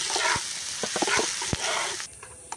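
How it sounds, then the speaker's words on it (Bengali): Onions frying in a pan make a moderate, even sizzle broken by a few sharp stirring clicks and scrapes, quieting near the end, with no voices. "পেঁয়াজটা দিয়েও খুব ভালো করে একটু ভেজে নেব।"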